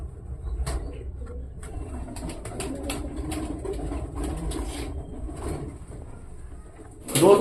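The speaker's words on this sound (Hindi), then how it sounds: "दोस्तों देख लो ये कबूतर है जो भूरी कबूतरी है" Kake Wali breed pigeons from Punjab coo in low, repeated murmurs close by in a loft, with occasional clattering knocks and a bump at the end.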